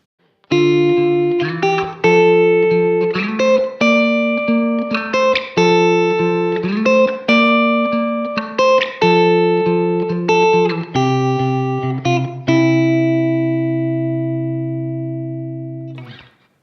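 A clean, effect-laden guitar arpeggiates broken chords in a repeating pattern, notes blooming and overlapping, ending on a long sustained chord that fades out.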